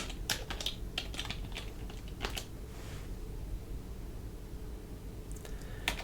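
Keystrokes on a computer keyboard while a Linux install command is entered, a burst of quick taps early followed by a few scattered clicks, fairly close over a steady low background hum.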